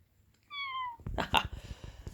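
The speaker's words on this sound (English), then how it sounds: "Hello, cat." A cat gives a single clear, drawn-out meow close by, followed by rustling handling noises and scattered soft sounds.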